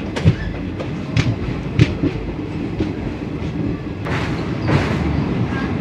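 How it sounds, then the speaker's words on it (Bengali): The Kanchenjunga Express, running from Agartala to Sealdah, rolls across the Mahananda bridge with a steady, loud rumble and rhythmic clatter of wheels, punctuated by sharper metallic clanks, heard close from on board. "কাঞ্চনজঙ্ঘা এক্সপ্রেস। এখন আমরা পার করব মহানন্দা ব্রিজ।"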